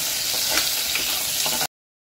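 Finely chopped onion hits hot oil with cumin, bursting into a loud, dense, continuous sizzle for under two seconds before cutting off abruptly.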